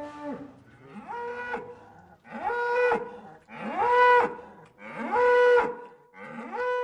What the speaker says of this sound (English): The new bull is making his majestic arrival.